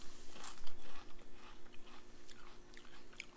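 Crunchy fried uku fish skin is chewed up close, giving soft, irregular crackling bites with no talking.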